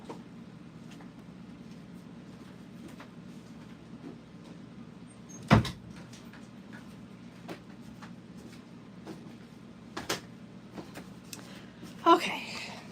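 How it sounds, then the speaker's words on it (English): A door pulled shut indoors, one sharp thud partway through with a couple of softer knocks later, over a low room hum while someone talks. "Let me close the door because the air's on."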